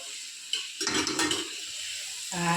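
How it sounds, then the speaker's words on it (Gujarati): Food fries in a pan in a home kitchen, bursts of sizzling with stirring scrapes over a low steady hiss, close by and without talk. "આ ફ્રાય કરી દે છે."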